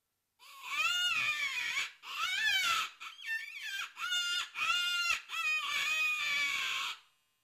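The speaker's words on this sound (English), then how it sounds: "It's a bite type call with dual reeds and actually four air channels" A Nimrod Verminator bite-type predator mouth call with dual reeds and four air channels is blown in loud, wavering, squalling cries, about six bursts separated by short breaths, close and alone.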